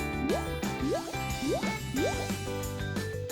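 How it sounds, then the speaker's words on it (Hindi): Coloured water drips and glugs into a small craft container made from light clay and a straw, in a run of about five quick rising-pitch plops over background music. "इसमें रंगीन पानी भरें।"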